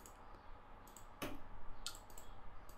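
A computer mouse gives a couple of faint, sharp clicks against a quiet room hiss, with a low murmur in the background.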